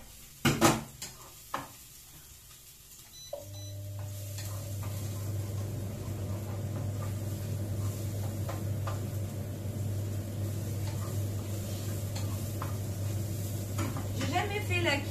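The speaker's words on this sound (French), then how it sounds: "Je vais quand même remuer mes échalotes." Shallots are stirred in a pan on the stove, with scattered clinks and scrapes of a utensil against the pan, then a steady sizzle and hum taking over for the rest; a voice speaks briefly.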